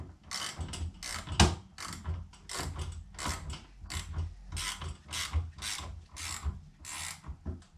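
A clamp is wound tight on a bicycle wheel truing bench, giving a series of rhythmic ratcheting, grinding turns repeated about a dozen times at close range, with no voices.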